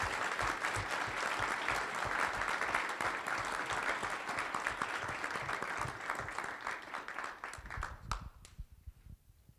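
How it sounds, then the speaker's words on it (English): An audience at a board of directors briefing claps steadily in dense applause that carries on for several seconds, then thins into a few scattered claps and stops abruptly. "Please give them a round of applause."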